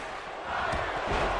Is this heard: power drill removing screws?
no